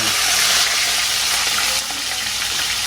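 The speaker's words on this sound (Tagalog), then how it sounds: "Grabe yung talsik ng mantika" Kangkong (water spinach) fries in hot oil with a loud, continuous sizzling hiss and crackle as the oil splatters, close by, easing slightly toward the end.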